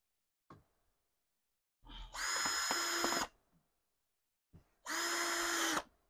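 A power drill drives screws into a 6V battery-powered kids' ride-on jeep during assembly, two separate loud whirring bursts of about a second each, with short pauses and a few faint knocks between.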